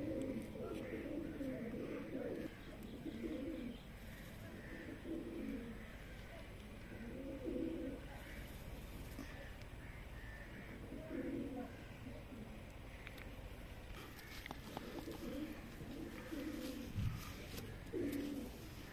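Pigeons cooing at a pigeon flying show, soft repeated throaty coos in short phrases over a quiet outdoor hiss, fairly faint, with low voices in the background.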